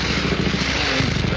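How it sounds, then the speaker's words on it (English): Motorbike engines from a 1937 film soundtrack, a dense steady roar with rattling mechanical clatter, loud and continuous throughout with no pauses. "Motorbikes. Confounded contraptions."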